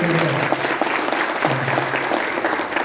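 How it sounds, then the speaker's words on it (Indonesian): An audience at a business network gathering breaks into sustained applause, a loud, dense wash of clapping with a voice briefly audible beneath it. "Sekali dong, tepuk tangan."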